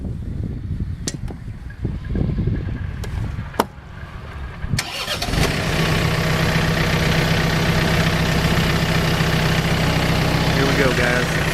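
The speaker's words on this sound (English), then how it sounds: "I'm going to go ahead and fire up the tractor" A tractor engine cranks with a few sharp clicks and knocks, then catches after about five seconds and settles into a loud, steady, close idle that continues to the end.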